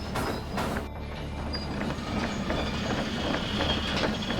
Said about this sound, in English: You can feel the train kind of slowing down a bit as there's more resistance and friction as the entire load tries to make its way around this curve